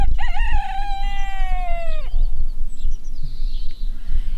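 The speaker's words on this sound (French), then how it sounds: "Chanteclair lança un petit cocorico" A rooster crows once, loud and close, in one long cock-a-doodle-doo that rises and then trails off, followed by quieter farmyard background.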